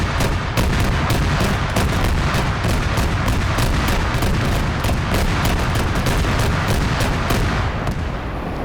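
An armoured vehicle returning fire in a military video game, a dense rapid stream of heavy gunshots at a steady rhythm, loud and continuous with no talk.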